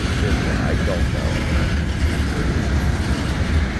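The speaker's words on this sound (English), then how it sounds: "This train might even be making a run up to Houston" A freight train rolls past in one continuous, loud rumble with steady low-end roar and faint rail clatter, filling the whole stretch without a break.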